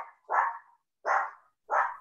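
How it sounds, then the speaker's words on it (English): A dog barks three times at close range in an indoor woodcarving session, evenly spaced sharp barks with short silent gaps between them. "Sorry about the dog here. It's lunch."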